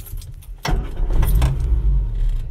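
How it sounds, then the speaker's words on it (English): Keys jangle in the ignition of a 1970s Austin Allegro, then the engine cranks and catches abruptly, settling into a close, loud, rumbling idle. "we thought we'd start the car up"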